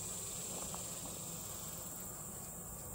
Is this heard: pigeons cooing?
no